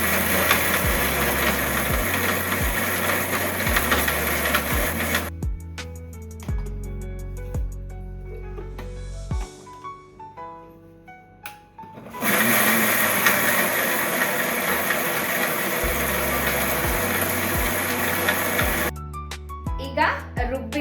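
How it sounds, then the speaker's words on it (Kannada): An Atomberg mixer grinder runs loud and close in long grinding bursts, pausing midway for a quieter stretch before roaring again, then cutting off near the end. "ಬೇಗನೆ ರುಬ್ಬಿಡತ್ತೆ ಇದು ಮಿಕ್ಸಿ."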